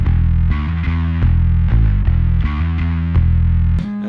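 A bass guitar played through a distortion pedal gives loud, gritty, sustained notes in a steady riff with a final higher note.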